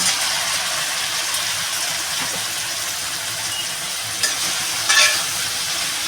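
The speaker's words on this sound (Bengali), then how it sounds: "আমি একে যে ঝিঙ্গাটা ধুয়ে রেখেছি এটা ঢেলে দেবো" Washed ridge gourd fries in a hot pan for a Bengali posto dish, giving a loud, steady sizzle and hiss with faint stirring scrapes and a brief clatter near the end.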